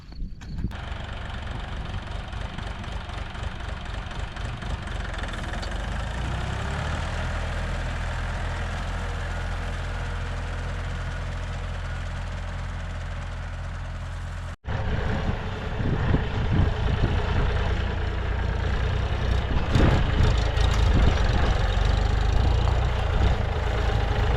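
A mini-tractor engine runs steadily at idle while herbicide is sprayed on a vegetable garden, a continuous low rumbling drone that briefly cuts out, then returns rougher and louder with added clatter.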